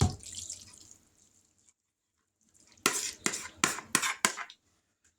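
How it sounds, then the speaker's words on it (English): A mixture is poured from a still-warm pan into a casserole dish, starting with a wet, splashing pour, then a pause, then several sharp scraping and sloshing bursts. "We're going to pour this in this casserole dish."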